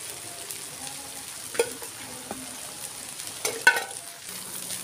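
Rava dosa sizzles in oil on a hot pan, a soft, steady frying crackle with a few sharper pops and scraping touches, close and fairly quiet with no talk.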